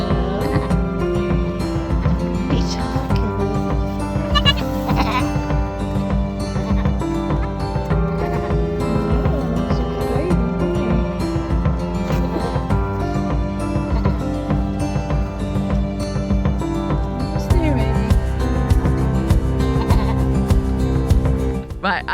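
Newborn goat kids and their flock bleat during kidding season, with repeated high cries over a busy, loud barnyard background that runs the whole time.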